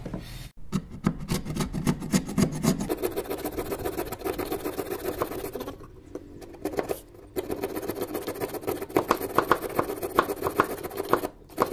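Rubbing and filing wood while making a wooden hand plane, a steady rasping scrape with repeated strokes, close and continuous with a brief pause midway.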